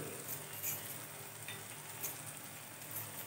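Turmeric and homemade red chili masala frying in oil with onion and tomato for a white peas curry, a steady soft sizzle and crackle running throughout with no voices.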